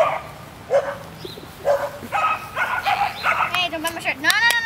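A young puppy gives a string of short yips and small barks, rising into squeaky whimpering cries, close by with a person's voice mixed in.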